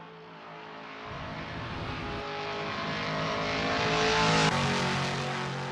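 A Toyota Supra LM GT1 race car in Assetto Corsa at Watkins Glen, its engine droning and steadily rising in pitch as it accelerates, with shifts in tone along the way, loud and alone.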